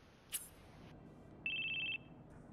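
A mobile phone rings in the Crisis Core Final Fantasy VII video game, a quiet electronic chime with a short blip followed by a sustained ringing tone, set against soft game ambience.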